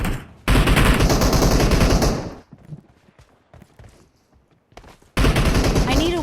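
Automatic gunfire in the video game PUBG, loud sustained bursts at the start and again at the end, with quieter scattered thuds and game sounds in the gap between them.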